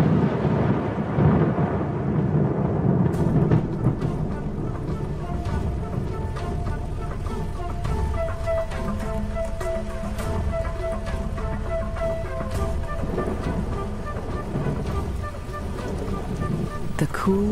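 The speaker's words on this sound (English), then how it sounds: "the promised rain arrives at last" Heavy rain pours with deep rolling thunder rumbling underneath, a steady dense wash of sound with occasional sharper cracks.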